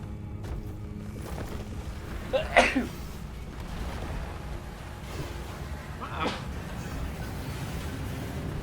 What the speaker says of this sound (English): I might have to sneeze